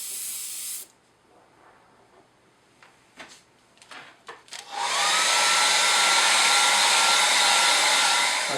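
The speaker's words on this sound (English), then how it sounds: "Again, I'm going to apply this with the airbrush." An airbrush sprays varnish onto a model Pacific locomotive, a steady loud hiss that begins abruptly after a few quiet ticks and short clicks and then holds alone and close.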